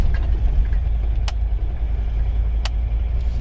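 The engine of a Mercedes 300CD runs while the car is driven, a steady low drone from the cabin with faint ticking and a couple of brief clicks.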